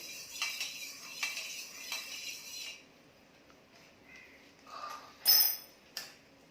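A spoon stirring yogurt starter into milk, several rhythmic scraping swirls against the vessel followed by quieter moments and a couple of sharp metallic clinks, close up.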